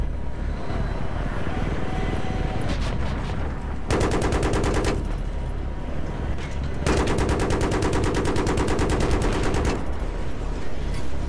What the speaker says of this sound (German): ich sehe gar nicht, wo die Schüsse herkommen, weil da unten ist so viel Rauch